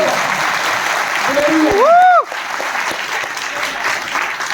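An audience at a motivational talk in Gwalior claps loudly and steadily, with a rising voiced shout or whoop over the clapping midway before the sound dips and settles into softer applause.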